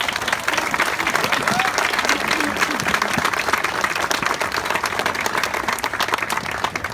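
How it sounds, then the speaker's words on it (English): An audience at an opening speech breaks into steady applause, dense overlapping claps sustained for the whole stretch at a fairly loud, even level before tapering slightly at the end. "A big round of applause."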